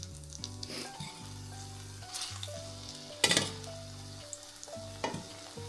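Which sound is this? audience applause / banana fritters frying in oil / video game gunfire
banana fritters frying in oil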